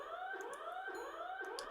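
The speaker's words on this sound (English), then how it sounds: "The alarms are deafening." Facility alarms in an SCP dating sim blare continuously at a steady loud level, with rising, repeating electronic wails and brief high chirps layered over them, and no one speaks.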